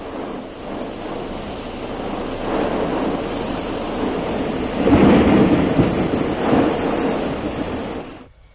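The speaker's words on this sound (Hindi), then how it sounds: "राजधानी रांची में जोरदार बारिश हुई" Heavy rain pours steadily in Ranchi, Jharkhand, with deep rolling thunder swelling loudly about halfway through and again near the end before fading out.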